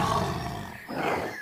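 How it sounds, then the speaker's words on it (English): A deep, rough tiger roar rumbles close and loud, swelling twice over a short stretch with no voices present. "Tiger."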